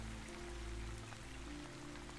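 Steady rain falling outside a window, a soft continuous patter with faint scattered drops over a low rumble, no voices.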